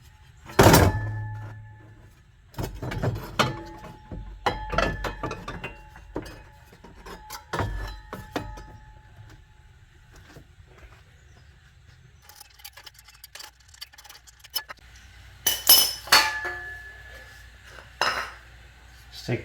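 A fan clutch on a 2003 Ram 2500 with the 5.7L engine being worked loose by hand, heard as scattered metallic clunks and clinks with short bursts, some loud and close, separated by quieter stretches.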